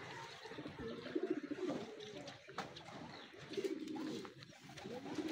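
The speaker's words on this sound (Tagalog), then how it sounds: "Inaantay natin mga kalapatid." Racing pigeons coo at the loft during a training flight in Rosario, La Union. Soft, repeated throaty coos come close and fairly quiet, rising and fading in bursts, with no talking.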